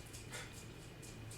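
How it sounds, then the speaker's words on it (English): A dog indoors gives faint, thin whimpers and soft yips in a few short bursts, distant and quiet against a low room hum. "Why are you barking?"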